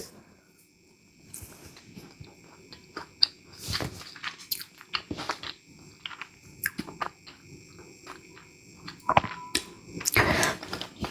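Close, crisp bites and crunchy chewing of homemade sesame brittle (ellu pagu) made with sesame oil, coming in irregular bursts over about eleven seconds with no talking.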